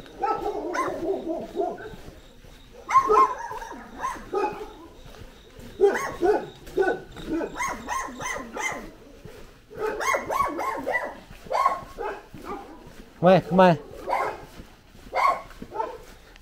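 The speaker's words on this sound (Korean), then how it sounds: "아, 왜 짖는 거야?" A dog barks and yips repeatedly in close, loud bursts through the scene, with a person speaking in between the barks.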